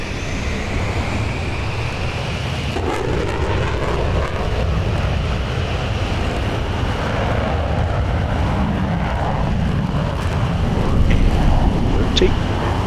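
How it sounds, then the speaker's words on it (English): F-35 fighter jet taking off at full afterburner power, heard as a loud, steady, broadband roar that holds throughout and swells slightly near the end, with no talk over it. "Afterburner."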